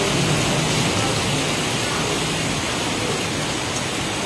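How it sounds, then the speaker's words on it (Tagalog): Steady, dense hiss of heavy rain pours down without a break in Barugo, Leyte, Philippines, loud and close. "Umuulan. Umuulan."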